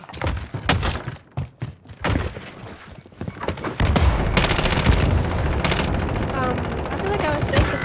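Rapid Uzi submachine gun bursts in a Call of Duty: Modern Warfare match, starting as scattered loud shots and then a sustained dense stream of automatic fire mixed with explosions and game effects, with voices and game callouts underneath.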